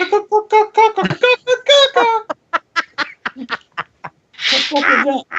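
A person's voice imitates crow calls in a rapid series of short, nasal caws, followed by scattered clicks and a laugh-like burst at close range.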